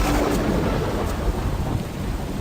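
Thunder rumbles heavily under a dense, steady wash of falling rain in a stormy sound effect, loud and continuous with no voices.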